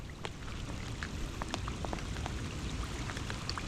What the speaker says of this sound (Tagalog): Kitang kita yung patak ng ulan.